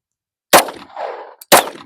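Two sharp, loud gunshots from a handgun fitted with a compensator, fired at an outdoor range, about a second apart, the first followed by a brief ringing tail before the second blast.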